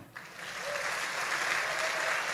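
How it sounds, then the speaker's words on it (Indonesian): A crowd at an Indonesian stand-up comedy show at a Christmas event in Tegal breaks into applause, rising after a brief opening noise into a steady, fairly distant roar of clapping. "Yang hadir hari ini, yang bangga jadi orang Indonesia, coba tepuk tangan."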